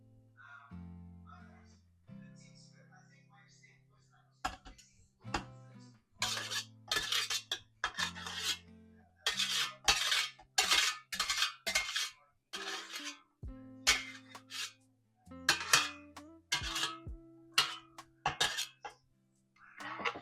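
Drained spaghetti mixed into pasta sauce, with repeated wet clinks and scraping strokes of a utensil against the pot in an uneven rhythm, set against a faint tonal hum and some quiet voice at the start.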